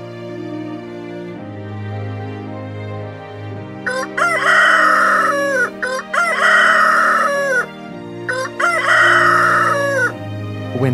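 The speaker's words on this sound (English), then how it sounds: "When Peter heard the rooster," A rooster crows three times in succession, loud and close, each long call rising and falling, with a steady low hum underneath and no talking.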